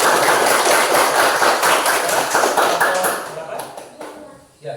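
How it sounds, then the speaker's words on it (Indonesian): A class gives dense applause for a presenting group, loud and sustained at first, then thinning and fading toward the end. "Tepuk tangan untuk kelompok 1."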